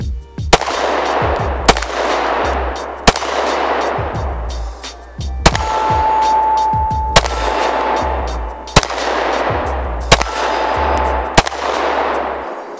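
Polymer 80 pistol built on an Agency Arms Syndicate kit fires single shots at a steady spaced pace, each a sharp loud crack with echoing tail, about nine shots with a faint electronic beep between some.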